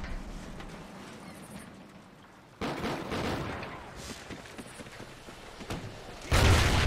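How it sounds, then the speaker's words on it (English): An explosion from a grenade launcher in the video game Call of Duty Ghosts hits hard and close, following a stretch of scattered gunfire and ending with a second loud blast. "I got like blown up. Grenade launcher"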